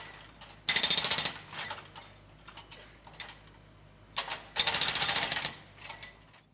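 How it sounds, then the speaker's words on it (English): Hydraulic breaker on a digger pounding a concrete footpath, two loud sustained bursts of rapid hammering separated by quieter mechanical ticking and scraping, close by with no voices. "The digger uses the breaker to hammer into the concrete footpath."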